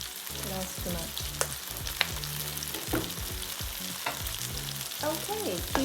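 Eggplant and pork stir-frying with salt and pepper in a hot pan, a steady close sizzle broken by repeated clatters and scrapes of stirring, with no voices.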